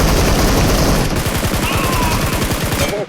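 Rapid automatic gunfire from PUBG Mobile rattles loud and close in a continuous burst of evenly spaced shots, fading out abruptly at the end.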